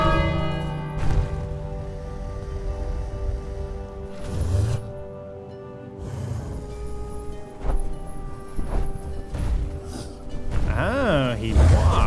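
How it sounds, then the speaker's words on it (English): A bell rings repeatedly in the King's Quest video game, struck several times with lingering tones over game music, while people talk throughout. "Ring the bell again."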